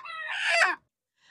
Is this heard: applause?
no